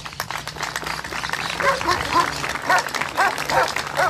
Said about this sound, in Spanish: Muy bien, aplausos.